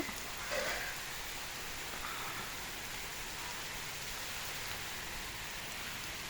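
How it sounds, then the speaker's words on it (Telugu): Steady rain falls over a village, a soft continuous hiss of drops on surfaces with no break, fairly quiet and even throughout. "చాలా రోజుల తర్వాత మా ఊర్లో వర్షం పడుతుంది"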